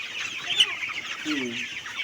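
Poultry with swollen heads cluck softly and repeatedly at close range, with a few short low clucks standing out over a hissy background.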